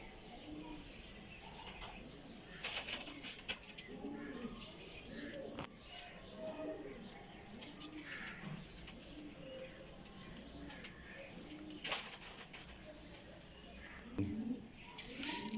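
Pure Kasuri jaldar pigeons coo in a breeder's loft, soft low throaty coos repeating every second or so at a quiet level, broken by brief clicks and rustles.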